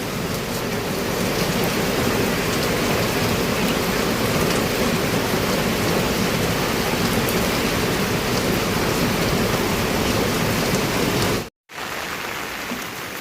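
Heavy rain pours in a loud, unbroken roar of dense drops hammering surfaces, cut by a brief dropout near the end before the downpour resumes; no voices.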